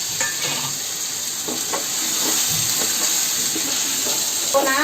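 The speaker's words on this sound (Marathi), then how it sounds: "अशी बटाटी जरा फ्राय झाली पाहिजे छान" Potatoes and tomatoes for aloo pulao fry in a pan, a constant sizzle with intermittent stirring scrapes and a brief clatter near the end, heard close up with a little talk in the background.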